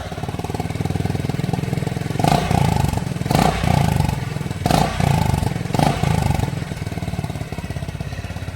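A 2025 Honda H'ness CB350 motorcycle engine runs with a steady, close thumping idle, rising several times into short revs before settling back down.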